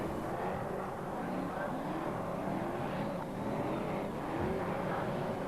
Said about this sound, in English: The consolation for BriSCA Formula 1 stock cars coming round for your applause now.